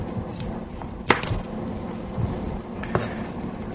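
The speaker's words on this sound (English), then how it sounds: "we're going to trim one head of broccoli" A kitchen knife trims a head of broccoli on a cutting board, giving a few sharp chops and cuts spaced irregularly, with one crisp louder strike and softer scrapes between.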